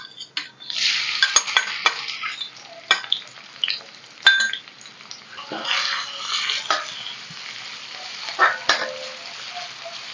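Shallots and garlic, crushed on a grinding stone, fry in a pan with a loud, close sizzle that swells as they go in, broken by metal spoon scrapes and clinks against the pan, with no voices.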